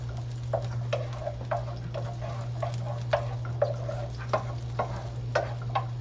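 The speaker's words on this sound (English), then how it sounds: "saute the onions and the garlic cloves. This is fresh garlic." Onions and fresh garlic cloves saute in a pan on a stovetop, giving a steady low sizzle with light stirring taps and clicks scattered throughout, close and moderate in level, with no talking.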